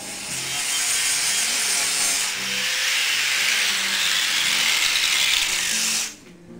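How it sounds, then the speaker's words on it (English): Angle grinder smoothing welds on a shaved car door handle, a loud continuous abrasive grinding roar with shifting pitch that cuts off abruptly near the end, no talking. "I wanted to go ahead and grind it all smooth to kind of get a better idea of where I was at."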